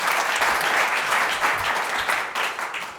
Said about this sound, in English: So big round of applause for Milan.